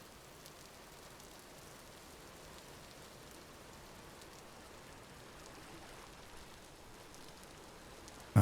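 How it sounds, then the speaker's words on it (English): Rain falling in the Vintage Story video game: a soft, even, continuous patter and hiss that holds steady throughout, with no voices, ending in a brief louder burst. "Drax goes to fill pitcher, then realizes it's raining"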